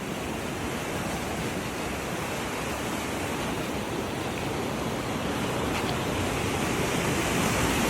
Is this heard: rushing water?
yes